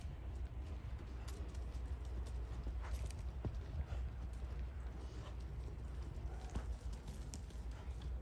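A jumping horse trots under saddle in a steady rhythmic clip-clop of hooves over a constant low rumble of wind or background noise.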